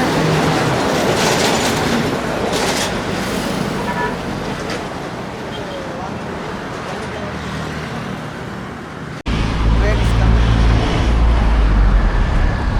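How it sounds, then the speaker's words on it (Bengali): A train rumbles past along the Indian Ocean seashore in Colombo, Sri Lanka, with loud, steady clatter from the tracks, continuous throughout, briefly dipping before returning even louder. "এই দেখেন সমুদ্র পাড় দিয়ে এখন ট্রেন যাচ্ছে।"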